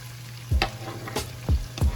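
Vienna sausages drop into a hot pan with a few sharp sizzling bursts over a quiet, steady background frying hiss.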